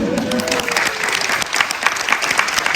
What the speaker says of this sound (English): Now, one final round of applause.